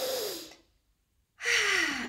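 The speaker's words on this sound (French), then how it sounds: "Et puis vous prenez une grande respiration." Two deep, breathy inhalations or exhalations taken close to the microphone, the first fading into a brief silence before the second begins, with no talk.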